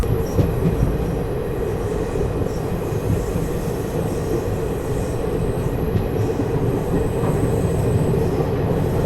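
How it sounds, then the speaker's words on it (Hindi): Inside a first AC ICF coach of the 14041 Mussoorie Express pulling away from Delhi Shahdara, a loud, steady low rumble of the moving train with rolling wheel noise and faint squeals, no voices. "ट्रेन जो है अपनी निकल चुकी है दिल्ली शादरा से।"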